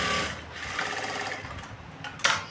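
An electric sewing machine stitches a blouse with a steady, close, fast mechanical whir and needle rattle, briefly changing pitch near the end.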